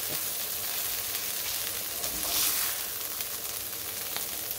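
Tortillas fry in oil-rich red salsa for Mexican enchiladas, giving a steady, close, loud sizzle that runs unbroken throughout with a brief swell midway.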